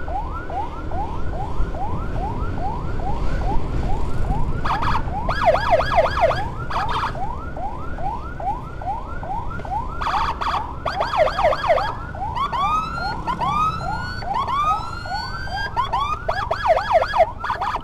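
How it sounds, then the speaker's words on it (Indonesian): A loud ambulance siren on the road wails continuously nearby, cycling through rising yelps and alternating tones with rapid warble bursts, and there is no talking. "ada ambulan"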